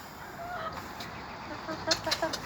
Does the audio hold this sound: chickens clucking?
yes